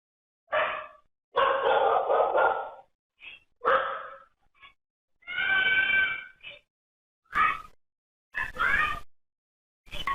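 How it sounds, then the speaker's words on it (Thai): A pit bull barks repeatedly on security-camera footage, several loud, harsh bursts separated by short silences. "นี่คือกล้องวงจรปิดที่บันทึกเสียงตอนที่สุนัขพันธุ์พิษบู"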